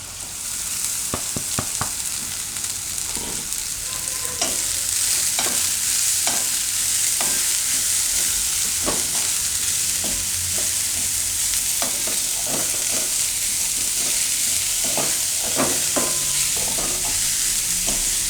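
Green onion is sautéed in oil for a bajra flour tikki stuffing, a steady close sizzle running throughout with repeated sharp clicks and scrapes of a spoon stirring against the pan, and no voices.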